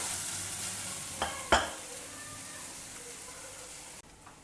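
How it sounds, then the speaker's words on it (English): A spoon gives cooked beans and carrot thoran with fresh grated coconut a light stir in a pan, a couple of soft scraping clicks over a faint, quiet sizzle. "We'll just add a little bit of fresh grated coconut on top and give it a light stir."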